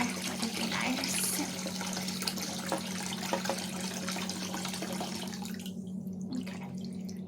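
Water running steadily from a tap into a sink during scrubbing with a small brush, a constant close hiss and splash that continues through most of the clip, easing off near the end.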